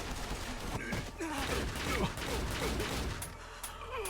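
Gunfire from the Cyberpunk Edgerunners anime, bursts of shots and impacts sounding through a dense, busy mix of effects and music with faint voices, all fairly loud throughout.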